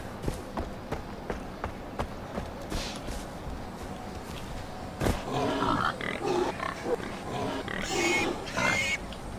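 Pigs grunt and oink in the video game Far Cry 4, with hurried running footsteps and scattered clatter, growing busier and louder toward the end.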